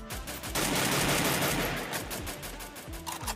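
Free Fire video game gunfire, a dense rapid burst of automatic shots that dominates at first, followed by scattered single shots, loud and close.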